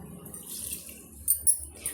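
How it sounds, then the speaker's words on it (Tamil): Water heats in a pot to cook rava appalam, giving a faint bubbling and simmering with a few brighter pops and ticks near the end. "தண்ணி நல்லா தலை தலை தலைன்னு கொதிச்சு வருது"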